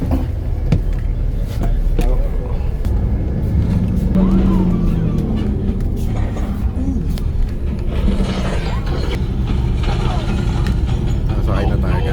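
A bus pulls in along a busy roadside with a continuous engine rumble and surrounding traffic noise, punctuated by clicks and knocks, while voices murmur in the background.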